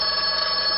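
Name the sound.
telephone ringing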